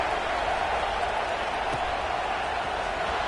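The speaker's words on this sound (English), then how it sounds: "this crowd is buzzing after that last score" A football stadium crowd at Texas A&M vs Tennessee keeps up a steady, dense roar and buzz just after a touchdown, broad and sustained with no clear breaks.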